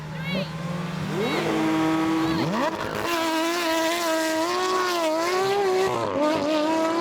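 Porsche 911 GT3 RS launching hard in a drag race, engine note climbing steeply through a loud, sustained rising howl, dropping briefly at a gear change then rising again, with tire noise at the start.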